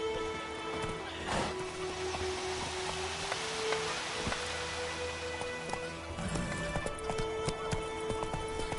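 Roach, Geralt's horse in The Witcher 3: Wild Hunt, gallops with steady, rhythmic clip-clopping hooves against a game's ambient background, holding a close, even pace throughout.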